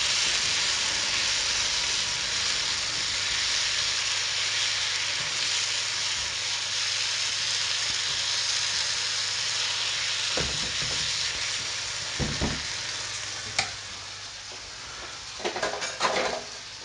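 Steady sizzling and hissing of tomato sauce frying in a pan, continuous and close, with a few clinks of a utensil toward the end.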